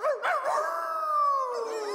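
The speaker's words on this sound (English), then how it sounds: "It's probably a stray dog." A stray dog howls in one long, loud, wavering cry that slides slowly downward, starting after a brief yelp and holding steady for about two seconds with no talk over it.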